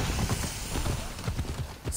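Rhythmic clip-clop of a horse's hooves at a steady trot in the video game Assassin's Creed Odyssey, close and fairly loud with no talk over it.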